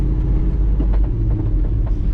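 A sleeper car's engine with a stealthy 2000 HP capable fuel system runs at 3,500 RPM under 35% throttle at 90 km/h, a loud, deep, steady rumble with faint road and cabin rattles.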